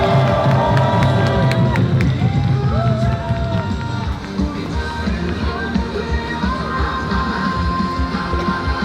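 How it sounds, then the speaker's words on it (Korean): An outdoor crowd at a ceremony declaring the permanent shutdown of the Hanbit Unit 1 nuclear reactor claps and cheers to welcome local residents, a loud dense roar of applause and shouts with voices mixed in. "박수로 모시겠습니다."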